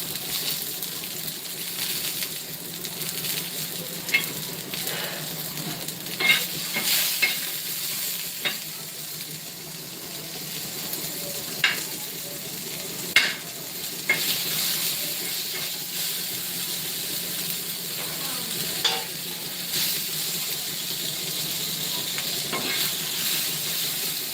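Garlic sizzles in hot oil as it is stirred for Maharashtrian brinjal bharit, a steady frying hiss broken by scattered scrapes and clinks of the spoon against the pan, with no talking.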